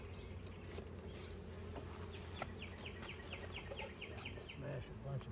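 Dense swarm of bees buzzing steadily at close range while a beehive is opened for inspection, a continuous droning hum with scattered brief knocks and handling noises.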